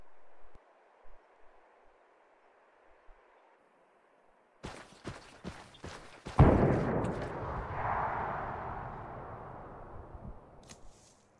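Several sharp, distant blasts crack out in quick succession as 2B14 Podnos mortar shells land in Arma 3, then a heavier explosion booms and rumbles away slowly, with a few faint pops trailing after.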